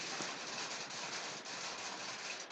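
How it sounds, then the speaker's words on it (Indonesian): Rain falls in Bogor, giving a steady, dense hiss of drops that stays even and unbroken throughout, with no voices. "baru mulai hujan nih"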